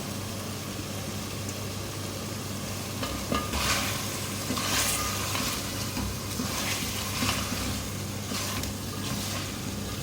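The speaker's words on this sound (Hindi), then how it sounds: "आलू डाल के मैंने इसको अच्छी तरह से मिक्स कर दिया है।" Cubed potatoes are stirred and fried in a meat and yogurt masala for degi aloo gosht, with a steady close sizzle broken by scraping stirs against the pot.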